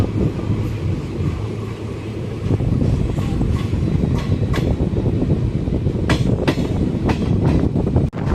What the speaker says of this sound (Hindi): गाड़ी हमारी यहाँ से डिपार्ट हो गई है।